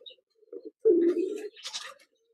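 A breeding pigeon raising chicks gives a single close, clear coo, a low rolling call preceded by a few soft short notes and followed by a brighter flutter of sound.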